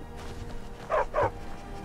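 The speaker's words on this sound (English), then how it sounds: "That's a big dog." Two quick, loud dog barks in succession in The Elder Scrolls V: Skyrim, deep and close, over a low ambient background.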